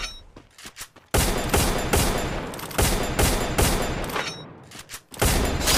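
Rapid gunfire in a battle royale video game, loud dense bursts of shots filling most of a few seconds with brief gaps, close and harsh.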